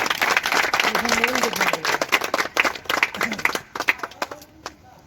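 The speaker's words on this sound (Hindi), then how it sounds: "तो एक बार जोरदार तालियां Shri Pramod Tiwari, please come on stage." Strong audience applause at a business opening program as a guest is called on stage, dense clapping that gradually tapers off, with voices talking over it.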